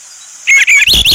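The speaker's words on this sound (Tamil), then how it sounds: "ஸோ அந்த பேர்டோட சவுண்டை நீங்கள் கேளுங்க." Bird call played back from a phone app, heard as a quick series of loud, high, warbling chirps with no talk over them, starting after a short silent lead-in.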